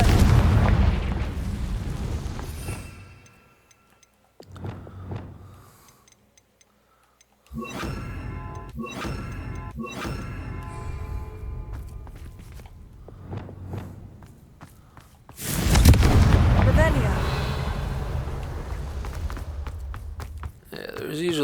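Confringo fire-spell blasts go off in Hogwarts Legacy as sharp explosive bursts with quiet gaps between them. A long, loud burst comes near the end, and softer ticking game sounds fill the pauses.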